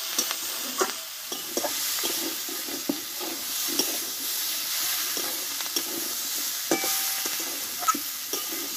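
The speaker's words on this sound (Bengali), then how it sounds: "দেখো সবগুলো একসঙ্গে ভালোভাবে কষে নিয়েছি" Small new potatoes and cauliflower sautéed together in a pan give a continuous hissing sizzle, broken by frequent light clicks and scrapes of a stirring spoon, up close.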